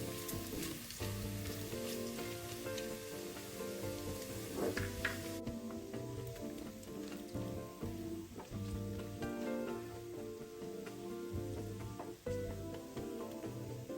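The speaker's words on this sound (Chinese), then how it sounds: "中低火翻炒至肉片变色，边缘一点焦香，一直到出油为止。" Slices of pork belly sizzle steadily in oil as they are stir-fried over medium-low heat, a constant crackling hiss under tonal background music.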